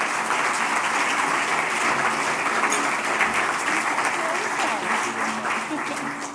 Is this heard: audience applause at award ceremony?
yes